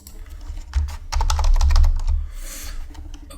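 Rapid bursts of computer keyboard typing while entering subtitle text in Adobe Premiere Pro, quick close clicks in clusters with a brief pause, then a few final keystrokes, heard alone without speech.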